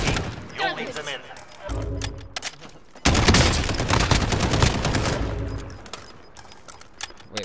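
Rapid automatic gunfire from the video game Call of Duty Warzone, with bursts of fusillade and a louder sustained volley mid-clip, mixed with game voices and shouting.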